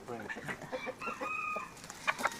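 A rooster makes a low, rough, throaty sound with clucking and a short crowing note, close by, against faint background noise.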